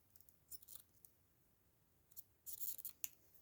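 Scissors snip thread off a decorated bourbon rose biscuit, giving a few quiet, scattered clicks followed by a denser cluster of sharp snips near the end, close and faint with no talking.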